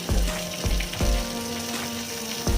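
Tomato and spices sizzle and fry in a pan, with a steady crackle and a series of rhythmic scraping stirs every half second or so, close and fairly loud, with no voices.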